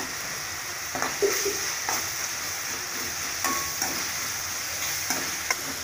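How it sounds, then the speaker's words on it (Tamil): Turmeric powder is stirred into mutton curry in a pan over a steady frying sizzle, with a few soft scrapes and taps of the spoon against the pan, close and continuous. "இதில் மஞ்சள் தூள் போட்டுட்டு நல்லா கலந்துட்டுங்க."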